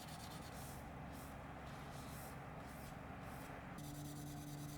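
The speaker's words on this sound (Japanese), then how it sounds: "まだまだ研磨音がガサついてますね。" Soft, steady scratching of fine 4000-grit sandpaper rubbed back and forth across a 1/24 scale model car's clear coat, continuous and faint, with no voices.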